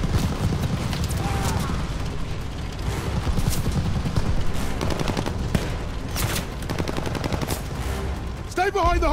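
Heavy gunfire crackles almost without pause in the Call of Duty: Vanguard battle, with machine gun bursts and shots piling into a loud, dense wall of combat noise and shouting voices mixed in.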